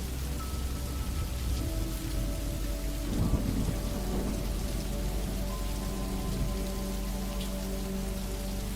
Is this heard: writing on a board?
no